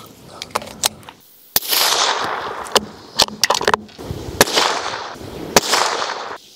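A Tikka T1X rifle fires Federal ammunition in a series of loud, close, sharp cracks at irregular intervals. Each shot has a short ringing decay, with quieter rustling between them.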